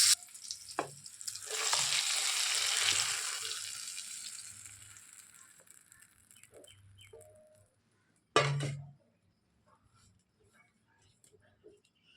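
Ripe pointed gourd frying in hot oil for a North Kolkata-style dish. A loud, broad sizzle swells, then fades to a quieter crackle before one sharp burst of spitting near the end.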